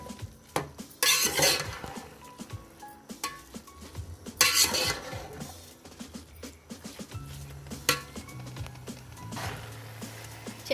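Gajar ka halwa with ghee stirred in a pan over low flame: irregular scrapes and clinks of a spoon against metal, with gentle sizzling in short bursts between strokes, close and without speech.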